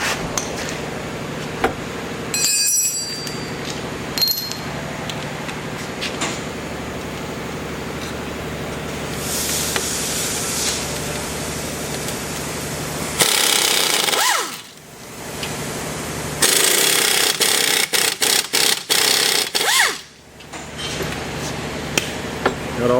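Power tool working on the wheel hub bolts of a Ford Taurus during a wheel bearing replacement: a loud, sustained mechanical whirr and rattle that runs almost the whole time, dropping out briefly twice before starting up again.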